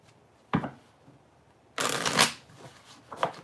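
A deck of tarot cards being shuffled close by, with a short riffle followed after a pause by a longer, louder flurry of shuffling and a final quick flick, in a quiet room.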